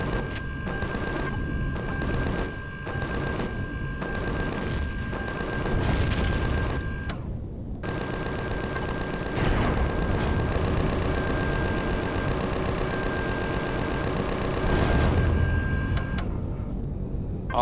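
Turrets on a base are shot down in Empyrion Galactic Survival, with dense, continuous rapid gunfire and booming explosions rumbling loudly throughout, broken by a few brief pauses and a steady tone running beneath.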